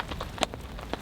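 Rain from a thunderstorm falling on a backpacking campsite, heard as scattered close drops tapping a surface over a soft steady hiss, with no voices.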